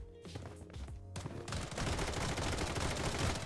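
Gunfire in the video game Bloodstrike as several players shoot into the air, starting with a few scattered shots over a tonal backdrop, then swelling into a dense, sustained fusillade.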